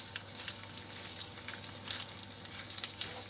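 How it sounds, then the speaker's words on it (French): Rice frying in hot oil in a pan, a steady, soft sizzle with light crackles and small pops throughout, close up and without talk. "je fais frire mon riz"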